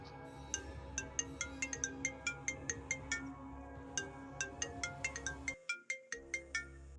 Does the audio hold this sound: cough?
no